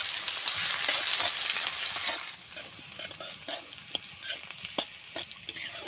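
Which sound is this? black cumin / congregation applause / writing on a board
black cumin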